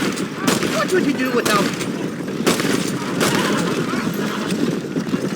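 Gunfire in the Western video game Red Dead Redemption during a wagon chase, with sharp shots and bursts cutting through steady hoof clatter and rumble while a character talks over the action.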